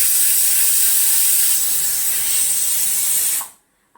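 A pressure cooker cooking sweet corn releases a sharp, loud steamy whistle hiss for a few seconds, then stops abruptly into silence.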